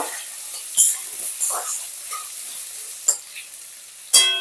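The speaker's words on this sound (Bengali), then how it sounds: "আলুগুলোকে একটু নাড়াচাড়া করে নেব" Diced potatoes frying in a pan and being stirred, a close bright sizzle broken by several sharp scrapes and clatters of a utensil against the pan, no voices.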